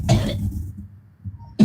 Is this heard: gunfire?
no